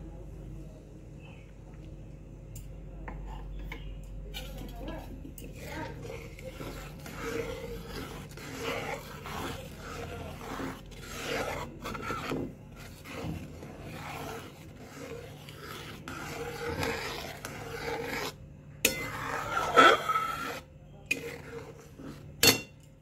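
A spoon scrapes and clinks in a pot while dissolved custard powder is stirred into boiling milk and sugar. The rubbing scrapes are irregular and close, with sharper metallic taps toward the end.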